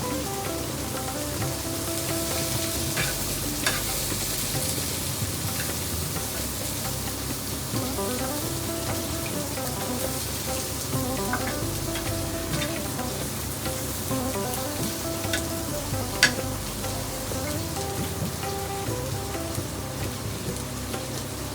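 Ingredients for bitter gourd karam powder, with a few peanuts, roast in a pan, giving a steady, dense, rain-like hiss that runs unbroken and fairly loud throughout, with no voices.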